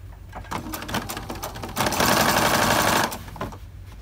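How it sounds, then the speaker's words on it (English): A sewing machine back tacks fabric for a project bag, rattling in short stitching bursts before a louder, steady run of rapid needle chatter, then slowing to a stop, close and clear. "This time I am going to back tack at the top and bottom just to make sure that it doesn't separate"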